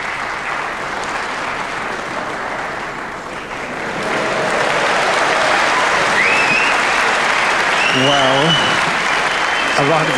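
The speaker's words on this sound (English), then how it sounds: "A round of applause for the white not going in the pocket" Snooker audience applause during the 1997 Masters, broad clapping that swells and stays loud throughout, with a commentator's voice speaking over it near the end.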